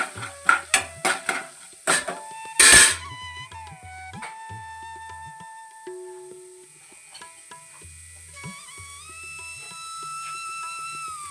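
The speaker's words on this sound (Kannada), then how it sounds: "ಕಡಲೆಬೇಳೆ, ಉದ್ದಿನಬೇಳೆ ಸ್ವಲ್ಪ ಫ್ರೈ ಮಾಡ್ಕೊಳ್ತಾರೆ." Chana dal and urad dal fry in a pan, with a burst of metal spoon scrapes and clinks against cookware at the start, then quieter stirring and pan knocks under a soft steady hum.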